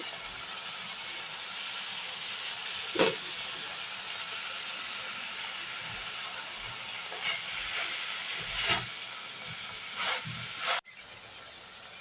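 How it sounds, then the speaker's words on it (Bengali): Fresh-cut spinach goes into a hot pan where singi fish is being cooked, giving a steady, close hiss of sizzling with a few soft thumps and stirring knocks along the way. "এখন আমি পালং শাকগুলো দিয়ে দিচ্ছি।"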